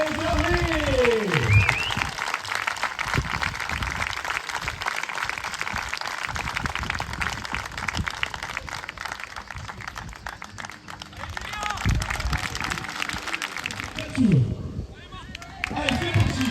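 Large crowd cheering and applauding for three finalists at an outdoor summer event in Saint-Gervais-sur-Mare, a sustained roar of clapping and voices with whoops, swelling again near the end.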